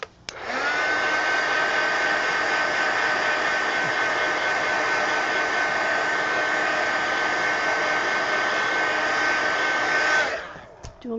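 Handheld dryer blowing steadily at close range to dry ink on a junk journal page, a loud continuous whine and rush of air lasting about ten seconds before cutting off.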